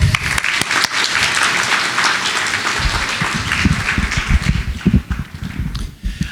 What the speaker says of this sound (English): Another round of applause for Dr. Paul.